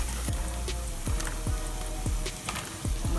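Onions frying in a pan with turmeric and asafoetida, a soft steady sizzle with faint spatters and a few light stirring taps, fairly quiet and without voices.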